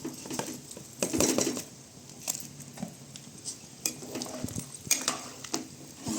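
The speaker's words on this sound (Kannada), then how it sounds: "ಈಗ ನಾವು ತೊಳೆದು ನೆನೆಸಿಟ್ಕೊಂಡಿರೋ ಅಕ್ಕಿ ಹಾಕೋಣ." Soaked, washed rice tipped into a boiling biryani masala pot, heard as a close run of clinks, scrapes and splashy rustles from a metal vessel and utensil, irregular and fairly busy throughout.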